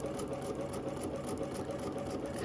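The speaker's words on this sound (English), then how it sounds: "So you just chain these pieces in one after the other" A sewing machine runs steadily while chain piecing quilt block pieces one after another, giving a constant close whirring hum with fast needle ticking and no talk.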